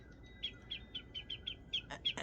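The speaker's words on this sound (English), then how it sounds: "here we are in the beauty of this space, listening to the birds, sitting outside on our front porch" Birds sing outside near a front porch, a bright series of rhythmic chirps repeating steadily, moderately close over a soft background hush, with no voices.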